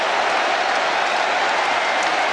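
French crowd at the 1999 Rugby World Cup semi-final against the All Blacks, roaring and cheering after a try, a dense, steady wall of stadium noise sustained throughout.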